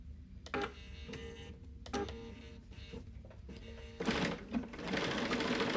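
A sewing machine stitches a seam line on a quilt block for an Alison Glass Trinket sew-along, running in three short bursts then a longer steady run, close and fairly loud with no talk.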